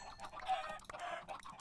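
Minecraft chickens clucking in a short series of soft, fairly faint calls, with no talk over them.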